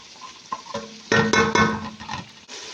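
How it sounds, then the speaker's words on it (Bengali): Ginger and garlic stirred into onions frying in a pan for chicken biryani: a soft sizzle with a few utensil scrapes, then a louder burst of frying and stirring for the rest of the moment, with no talking. "আদা রসুন এগুলোকে ভালো করে লাড়ে নিব"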